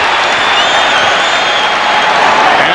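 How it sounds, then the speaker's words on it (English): Loud, sustained crowd cheering and roaring fills a 1995 NBA basketball arena during a Knicks game, continuous and dense throughout. "And hear it from the crowd."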